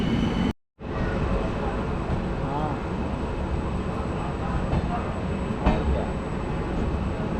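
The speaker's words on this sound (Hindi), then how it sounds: "तो ठीक 2 मिनट के स्टॉप के बाद हम निकल चुके हैं मेरठ सिटी जंक्शन से" The Jalandhar Intercity train pulls out of Meerut City junction after a two-minute stop, a steady rumble and rattle of the rolling coach heard from inside, loud and continuous after a brief dropout.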